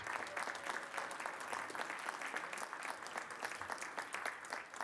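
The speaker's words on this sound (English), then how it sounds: "So let's give them a round of applause." Spectators at a town board meeting applaud a baton-twirling trio who won a national championship, continuous lively clapping at moderate volume lasting several seconds without speech.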